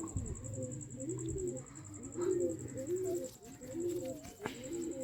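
Pigeons in a loft coo in soft, repeated rolling phrases, several throaty calls in a row over a faint constant high tone and background hum, with no talking.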